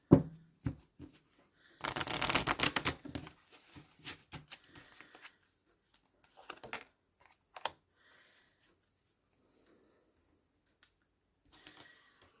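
Tarot cards handled during a channelled reading, with a dense burst of shuffling and riffling early on, then scattered soft taps and slides of cards at close range, with long quiet gaps and no talk.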